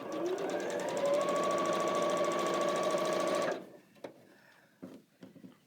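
A sewing machine stitches quilt fabric in a steady, fast, close-up whir for about three and a half seconds, then stops, leaving a few soft handling clicks and rustles.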